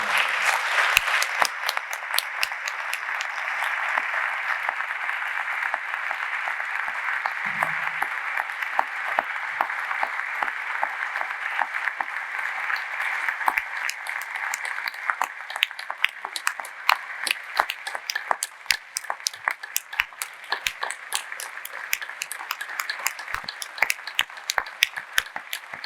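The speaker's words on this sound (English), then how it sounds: "would you give a big round of applause to Charlie?" An audience at a Q&A panel discussion gives Charlie a long round of applause, a sustained crowd of clapping hands that gradually thins into more scattered, distinct claps.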